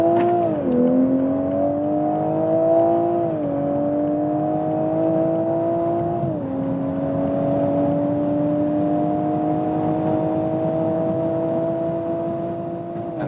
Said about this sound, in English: So we'll accelerate now from 60 kilometers up to,